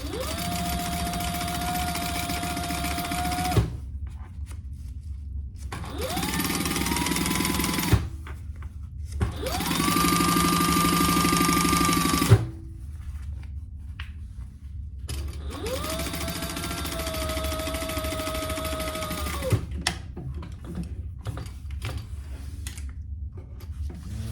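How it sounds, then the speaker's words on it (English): A sewing machine top stitches along the side of a zip pouch in four loud, steady runs of several seconds each, with a rising whine as each run starts and short quiet pauses in between. "the next step is we're going to top stitch"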